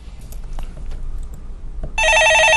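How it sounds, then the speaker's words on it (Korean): A telephone starts ringing partway through with a loud, steady electronic trill after a stretch of quiet room noise. "전화 받아보겠습니다"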